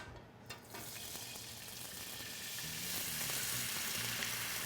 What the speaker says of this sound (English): All I'm gonna do next is dump in my stock.